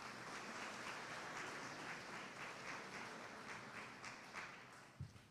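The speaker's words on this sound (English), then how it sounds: "Let's give him a round of applause, guys." Quiet, distant applause from an audience at a Louisville housing project completion event, a soft steady patter of many hands that thins out toward the end with a stray louder clap.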